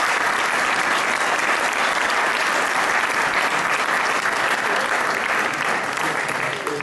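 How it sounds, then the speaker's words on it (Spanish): Loud, dense audience applause at a commemorative historical gathering, a continuous wall of clapping that holds steady at full strength from start to finish. "me gustaría que un aplauso muy fuerte para Salva y para Luis Mari."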